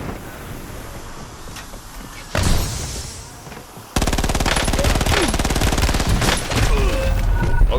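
Rapid automatic gunfire in the shooter Warzone, loud and dense, rattling in sustained bursts over wind-like noise, with a sudden jump in intensity partway through.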